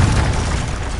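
A Confringo blasting spell explodes in Hogwarts Legacy, a loud, dense, rumbling burst that fills the whole moment.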